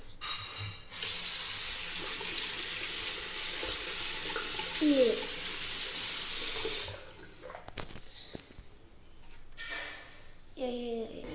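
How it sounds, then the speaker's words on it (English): Water gushes loudly from a shower for several seconds, then cuts off, leaving quieter clatter and a few brief voiced sounds afterward. "time to shower"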